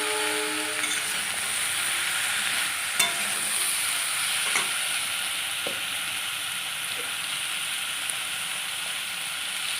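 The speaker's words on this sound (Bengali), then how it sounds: "এবারে এগুলো আমি একটু ভাজা ভাজা করে নেবো।" Mixed vegetables with turmeric and a broken green chilli fry in a pan with a continuous close sizzle, broken by occasional clinks and scrapes of stirring, steady throughout with no talking.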